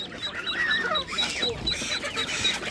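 Muscovy ducklings at an outdoor animal market in Ivano-Frankivsk give repeated high, thin peeping calls close by, over a murmur of background voices and market noise.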